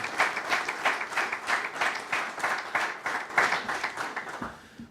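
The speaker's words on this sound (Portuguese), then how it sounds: "eu pedia um grande aplauso para todos os fundadores, dirigentes, antigos e atuais da UGT" An audience at a UGT union event breaks into sustained applause honoring its founders, a dense, rhythmic wash of clapping that carries steadily and then tapers off at the end.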